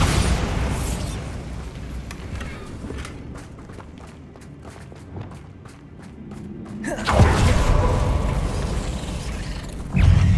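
Bombarda explosion spells cast in Hogwarts Legacy: loud booming blasts open the passage, give way to a quieter stretch of sharp ticks and steps, then another heavy detonation near the end.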